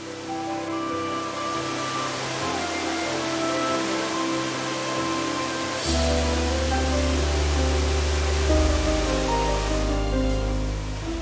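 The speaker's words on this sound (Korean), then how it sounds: "계곡을 따라 쉼없이 쏟아지는 다이아몬드 폭포수가 비경을 만들어내고 있는데요" The Diamante waterfall in the Costa Rican rainforest pours in a steady, dense roar of rushing water that swells slightly partway through, with no voices.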